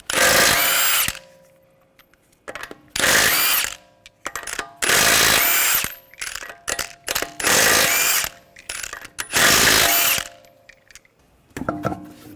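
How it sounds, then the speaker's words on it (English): A 22mm socket ratchet or impact tool spins lug nuts off a Honda Pilot V6 wheel in loud, close bursts of whirring about a second long, separated by short clicks and clanks of the socket and nuts. "Use a 22mm socket. Take the lug nuts off."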